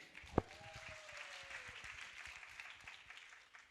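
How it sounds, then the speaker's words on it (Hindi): An audience at a recognition event in Raipur breaks into fairly faint, sustained applause, marked at the start by a sharp knock and a brief whistle-like tone. "प्लीज एक शानदार तालियां बजाइए।"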